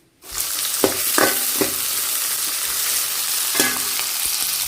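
Loud, steady sizzling starts abruptly as crushed garlic hits hot oil for fish curry, with a few scraping stirs of a spoon against the pan.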